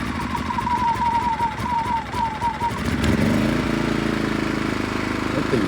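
A Power Smart emergency backup generator's small engine fires after a pull start, with a rising whine that settles into a steady, fairly loud idle running on alone.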